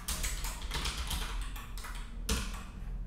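Rapid keystrokes on a computer keyboard, a quick uneven run of close, crisp clicks with a short pause near the end, alone without talk.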